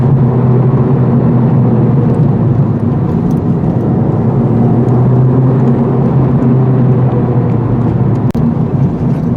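A 2023 Honda Civic Type R with a manual transmission cruises on the freeway, its engine drone and tire roar forming a loud, constant cabin hum that holds steady throughout.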